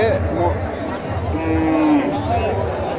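At the Dakumara cattle market in Bogura, a cow gives one drawn-out moo midway through amid the chatter of a busy crowd.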